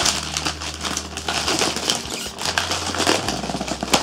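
Plastic packaging bags being unwrapped from Audio-Technica M50xBT headphones, producing dense, close crinkling and rustling that continues throughout, with a low mechanical hum underneath and no speech.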